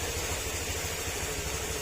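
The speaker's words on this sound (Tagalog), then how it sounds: "Painitin muna natin para makita natin kung pipitik-pitik pa rin." A Honda Click 125 v2 scooter engine with a suspected cam chain tensioner problem idles steadily, a constant close, loud rumbling drone with faint rhythmic pulsing and no talk.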